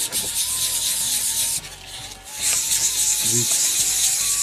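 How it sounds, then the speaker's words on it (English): Rough rubbing and scraping of sandpaper on wood turned on a lathe, after coloring, in repeated strokes with a brief pause midway, a voice speaking briefly over it. "So after coloring, I need to do the sanding"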